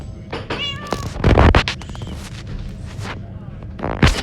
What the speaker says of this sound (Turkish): Kedim ne yapıyorsun? Bakın kedim.